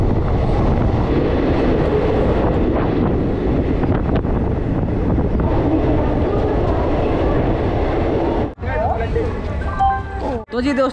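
Passenger train (Ganga Kaveri Express) running through Maharashtra toward Betul, Madhya Pradesh, a steady loud rumble with rail clatter and wind buffeting throughout, a few brief gaps near the end.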